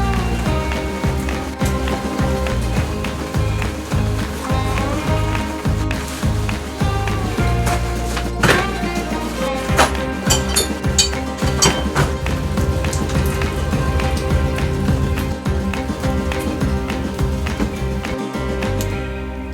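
Steady rain falls on a day set aside for Jeep work, a dense continuous hiss with scattered taps and drips throughout, fairly loud and with no voices.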